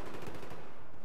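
The Bulldog weapon in Battlefield 4 fires in a short, rapid automatic burst, loud and close, with shots blurring into one rattling stream.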